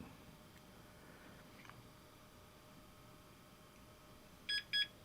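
Two short electronic startup beeps from a Dell Dimension 466 DMT 486 computer sound in quick succession against a quiet, faintly humming background.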